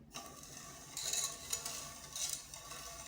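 A spoon scrapes and clinks as sugar and water are stirred together in a pan. Two close bursts of metallic scraping sound clearly against a quiet room, with no voices.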